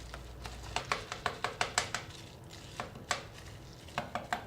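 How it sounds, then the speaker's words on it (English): A drink topped with sparkling pear or apple cider being stirred, a quick run of close, rapid clinks of a spoon against a glass, with a short pause and then a few more taps. "I'm going to give that a quick stir."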